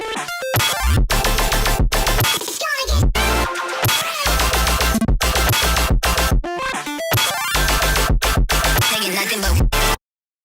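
Distorted hyperflip electronic drop with layered saw synths, dense and loud with choppy stutters, abrupt gaps and glitchy cuts, ending in a sudden stop.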